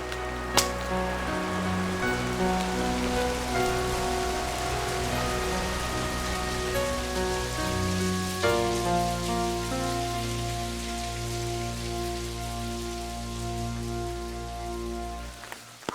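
Steady rain pours down outdoors in a constant hiss with pattering drops, while a low droning hum and tonal background sound run underneath throughout, and no voices are heard.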